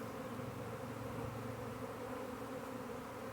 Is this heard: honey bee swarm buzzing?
yes